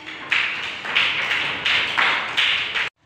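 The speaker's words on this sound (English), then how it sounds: "Clap for Shal." A group of children clap hands in a classroom during a lesson, four quick bursts of sharp, close applause in even rhythm before cutting to silence.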